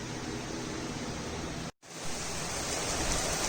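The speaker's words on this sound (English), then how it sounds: "Random rainstorm." Steady, dense hiss of a heavy rainstorm pouring down, with a momentary cut to silence midway before the broad roar resumes.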